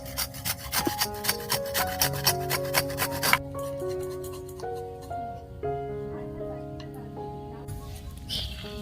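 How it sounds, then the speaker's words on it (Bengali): Pointed gourd (potol) is grated in quick, rhythmic rasping strokes for about three seconds, close and clear over steady tonal background music, which then carries on alone. "তো এবার এটাকে আমি ঘষে ঘষে একদম কুচিয়ে নেব পটলটাকে।"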